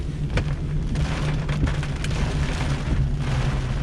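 Hurricane Dorian storm surge waves wash over a road, a loud, steady rushing roar of water and wind with a low rumble underneath, continuous and close.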